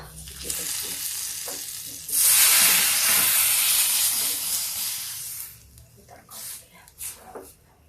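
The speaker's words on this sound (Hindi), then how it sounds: "अब ये देखिए इसमें लगने जा रहा तड़का।" Loud crackling sizzle bursts up as tadka spices, including cumin, hit hot oil, a broad hiss that holds for a few seconds before easing back, with soft background sounds.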